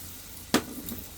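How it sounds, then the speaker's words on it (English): Butter browning in a pan sizzles quietly and steadily, with one brief sharper crackle partway through. "I don't know if you can tell, but the butter's kind of browning, which is good."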